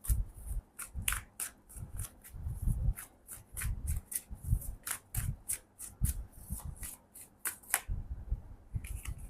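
Tarot cards being shuffled by hand in a run of crisp, rapid riffling bursts and soft slaps, close and fairly quiet, with no talking.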